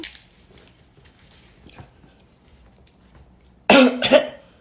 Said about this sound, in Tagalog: bakit inuubo ka?